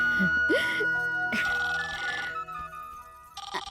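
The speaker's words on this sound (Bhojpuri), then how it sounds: "अरे बुआ तनी फोन देखी था।" A telephone rings indoors with a repeated bell-like ringtone, close and clear, while voices are heard around it.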